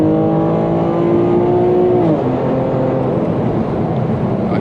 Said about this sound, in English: I hear that intake?